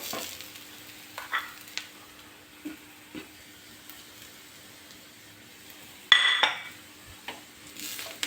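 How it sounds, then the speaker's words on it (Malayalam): Spice powders stirred and fried in a pan for a Kerala vanpayar mezhukkupuratti, with soft scraping stirs and faint sizzling, then a louder clatter of the utensil against the pan near the end. "പൊടിയുടെ ഒരു പച്ചമണം മാറുന്നിടം വരെ നമുക്ക് അത് ഇളക്കി കൊടുക്കാം."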